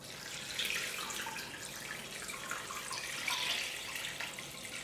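Bone broth liquid is poured after straining out the big pieces, making a faint, steady splashing trickle with a couple of brighter gurgling surges, no talking.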